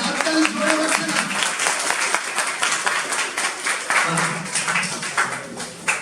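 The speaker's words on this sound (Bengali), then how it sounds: "ওখান থেকে সুকন্যা সেন আবার হাততালি হাততালি জোরে হচ্ছে না" An audience at a speaking session claps in a lively, uneven patter of many hands, fairly close, while voices talk over parts of it.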